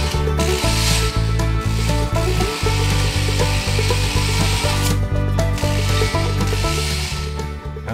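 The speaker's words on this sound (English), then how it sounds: "Drill new, smaller holes." A power drill whirs in repeated short bursts with brief pauses between, close and loud, with a rattling mechanical edge, drilling small holes in a DIY kayak sail furler part.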